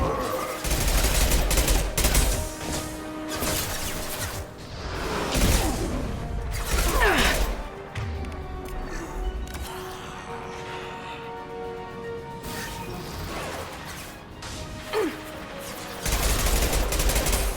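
Gunfire rattles through combat in the video game Mass Effect 2, with dense bursts of rapid shots and sharp cracks, loud and close, easing into quieter mechanical clatter before firing resumes at the end.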